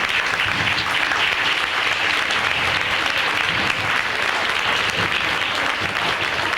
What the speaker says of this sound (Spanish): Yo pido un aplauso en homenaje